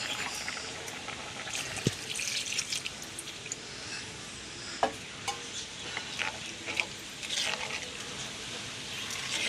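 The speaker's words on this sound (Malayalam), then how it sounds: "ഇനി ഒന്നാം പാൽ ഒഴിക്കാം" Thick first-extract coconut milk pours and trickles close by into a boiling fish curry, with scattered drips and soft splashes, fairly quiet and with no talking.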